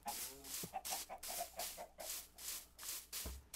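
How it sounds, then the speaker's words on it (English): Chickens in a farming video game cluck in a quick, steady series of soft, clipped calls against a faint rubbing background, with no voices present. "And we have more chickens."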